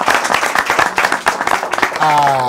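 An audience breaks into applause at an event, a rough patter of many hands clapping for a couple of seconds before a voice cuts in over it.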